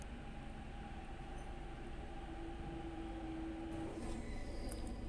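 Steady low rumble of a moving metro train with a faint whining tone, constant and fairly quiet, no voices.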